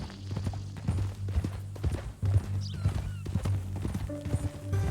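Horse hooves clip-clop at a steady walking rhythm in a Red Dead Redemption game scene, moderately close, with low ambient tones and no talk over them.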